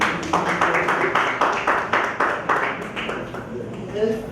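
An audience at a Ghana real estate professionals awards ceremony gives a round of applause, a steady run of claps rippling through the hall under a voice on the sound system.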